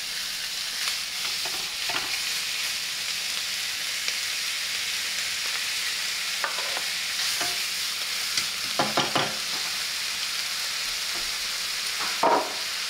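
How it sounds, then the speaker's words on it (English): Pork belly sizzles and fries steadily in a pan, a constant broadband crackle with occasional louder spatters and stirring scrapes, no talking. "I want to cook the pork belly first"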